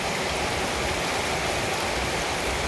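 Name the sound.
rain falling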